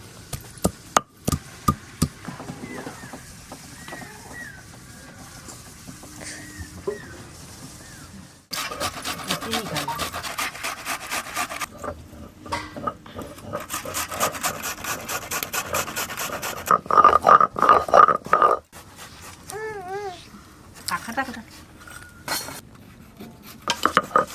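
Ginger and sugar ground into a paste by hand: rough rasping, rubbing strokes, sparse and light at first, then sustained and denser, broken by pauses and a few brief squeaky, whistle-like sounds.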